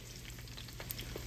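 Flounder frying in a pan gives a soft, continuous sizzle with a few scattered pops, low in level and close, with no voices over it.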